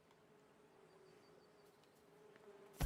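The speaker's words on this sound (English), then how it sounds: "Face full of freaking bees." Bees buzzing in the farming game The Good Life, a thin steady drone holding throughout at low level, then cut off by a sudden loud burst at the very end.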